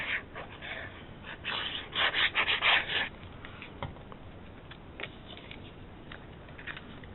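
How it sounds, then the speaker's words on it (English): A tool burnishes and scores cardstock for a card base, with soft rubbing and scraping strokes clustered early, then a few quieter scrapes. "Bring in Mr. Froggy to help burnish and score that."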